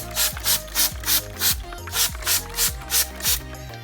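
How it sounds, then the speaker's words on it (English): A spray bottle of RO water mists an animal enclosure in about nine quick, evenly spaced bursts, each a short loud hiss close by, with a faint mechanical click from the trigger and no talking. "I'm actually gonna spray her right now,"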